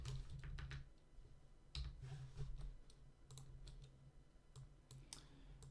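Keys clatter in quick irregular bursts while someone types code on a computer keyboard, the close clicks coming in clusters separated by brief pauses.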